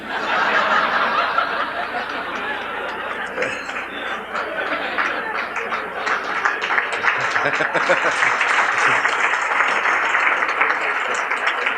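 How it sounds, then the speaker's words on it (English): Lively audience applause blended with snickering and chuckling laughter from a lecture crowd, sustained and dense throughout at steady loudness. "this is the very first time I have ever been applauded for failing high school"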